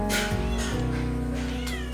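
A cat meows loudly and repeatedly up close, drawn-out cries over a steady low background hum.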